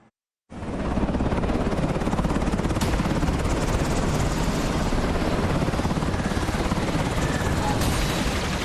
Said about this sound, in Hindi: हवा में मंडराते सेना के अटैक हेलीकॉप्टर,